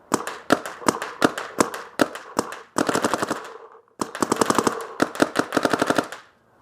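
RSX Shocker and Empire Vanquish 2.0 paintball markers fire in rapid bursts of sharp, snappy pops, close and loud, with brief pauses between strings of shots.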